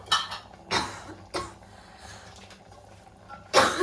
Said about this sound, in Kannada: ನನಗೆ ಬೇರೆ ಕೆಮ್ಮು ಶುರು ಆಗಿದೆ